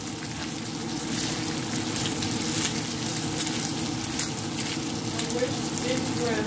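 Bacon frying in a pan gives a steady, dense sizzle with fine crackling and spitting pops, holding at an even level close by for the whole stretch.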